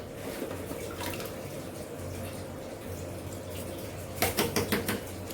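Bloodworms being rinsed in a container of water for fish food, a soft continuous sloshing and trickling with a few louder splashes near the end, close and moderately quiet.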